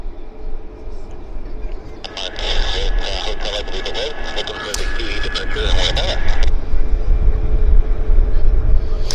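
An airliner arriving at Vancouver airport, its jet engines a broad roar rising in the later part, with a bright whining tone in the middle section and someone talking over it.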